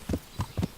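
Horse hooves clip-clop in three evenly spaced, close beats while riding through the medieval Bohemian setting of the video game Kingdom Come: Deliverance.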